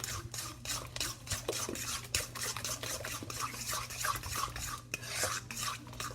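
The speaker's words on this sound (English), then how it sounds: "and 2 eggs. So now I'm just going to mix that all up." Eggs, brown sugar and other wet ingredients are mixed in a bowl for banana bread, with a utensil scraping and clicking against the bowl in quick repeated strokes, close up and with no talking.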